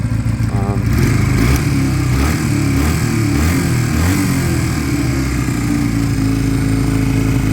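A Sinnis Cruisestar 125cc motorcycle engine idles steadily close by, with revs hanging, a continuous low rumble with faint fluctuations throughout.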